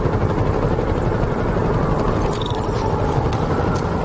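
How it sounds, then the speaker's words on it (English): A helicopter in the Marvel's Spider-Man Remastered video game roars with a loud, steady rotor and engine drone that fills the whole stretch without pause. "I can use those helicopters to swing."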